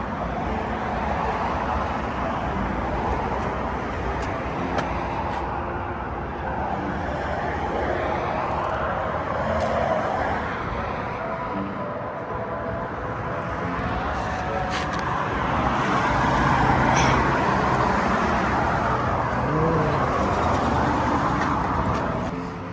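Street traffic with buses rolls past near a market in Salmiya, Kuwait, a continuous engine rumble and road hiss that swells and fades as vehicles go by, with faint voices in the background.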